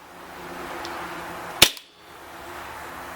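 A single sharp, loud crack from an ASG-KWA MP9 gas blowback airsoft machine pistol firing one semi-auto shot with .20 gram BBs, followed by a brief hiss and a moment of near silence.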